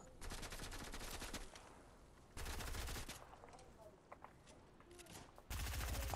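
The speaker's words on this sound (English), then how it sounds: "Got a bot shooting at me." Gunfire from a bot in an online shooter game, rapid automatic bursts in three separate stretches with quieter gaps between, fairly faint overall.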